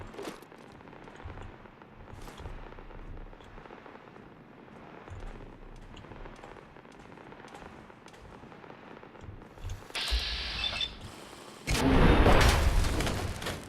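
An Assaultron robot blowing up in Fallout 4: after a stretch of low game ambience, a sudden loud blast with crackling debris, followed by a second heavier rumbling explosion that fills the end.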